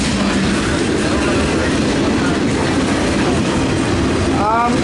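A CSX M422 mixed freight train passing Washington Grove Station, a loud steady rumble with rolling wheel noise close by, a brief squeal near the end, and faint talk under it.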